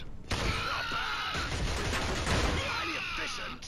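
Pistol fire in the Killzone video game, a burst of sharp shots in quick succession over loud battle noise and crashes, with a player's voice talking over parts of it.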